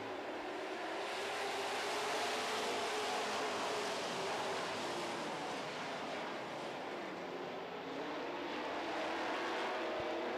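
Super stock race cars roar continuously around a racetrack during a feature race, a dense, loud, unbroken wash of engine noise with no voices over it.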